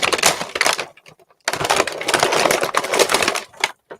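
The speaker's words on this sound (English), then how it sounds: "I don't know if my knife could cut this. And cut it from the back." A knife slices into plastic toy figure packaging from the back, giving close, loud crackling and crunching bursts, a short burst, a pause, then a longer stretch of rough tearing and crinkling.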